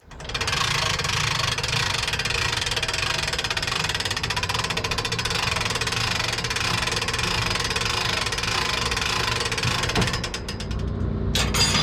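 Steady, continuous mechanical clicking and whirring of a ratchet wrench cranking rapidly while unbolting a Detroit Diesel 471 engine, loud and close throughout with no talking.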